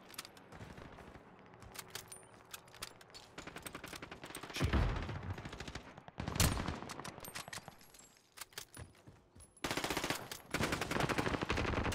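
Video-game gunfire in Call of Duty Warzone: rapid automatic bursts crackle in clusters, some loud and close with heavier booming shots, others fainter, separated by brief lulls.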